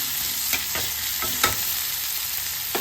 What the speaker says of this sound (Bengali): তো পেঁয়াজটা একটু ভাজা হবে,